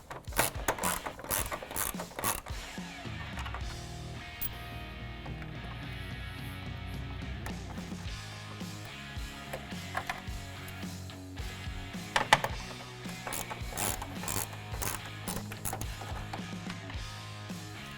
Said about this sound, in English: we've got a 10mm on an extension here to back that out